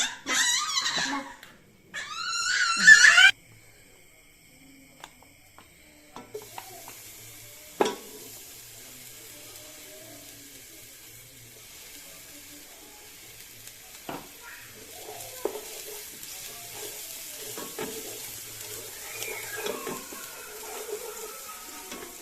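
Ginger and green chilli paste sautéing in a pan while prawn fried rice is prepared, with soft sizzling and occasional stirring scrapes through most of the stretch after a few loud bursts at the start.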